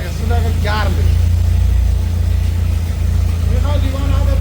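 A homemade helicopter's cold engine runs steadily and vibrates, giving a continuous low rumble while someone talks briefly over it.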